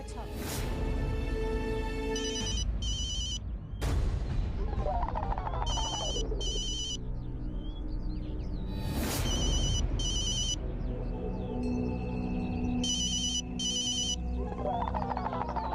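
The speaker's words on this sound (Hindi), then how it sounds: "प्रिया फोन कर रही है, उठा लीजिए ना" A mobile phone rings with an incoming call, its bright electronic ringtone pulsing in repeated short bursts over continuous talk and background music.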